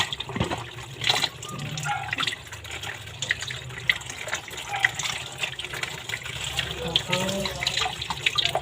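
Tap water runs steadily into a sink for washing up in a home kitchen, a continuous broadband rush with light clatter, while someone talks over it throughout.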